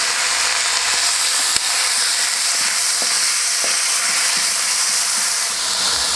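Bean sprouts stir-frying with beef in oyster sauce on a Kamado Joe Classic II grill, a loud continuous sizzle and hiss with faint scattered scrapes and clicks of stirring, close and without talk.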